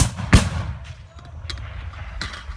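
Mortar rounds fired during a crew drill, a sharp loud blast near the start followed by fainter thumps and bursts amid background noise and outdoor commotion.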